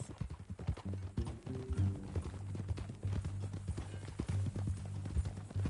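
A horse's hooves clip-clop in a steady walking rhythm in the Red Dead Redemption 2 video game, close and fairly quiet, with a low rumbling bed beneath and no talk.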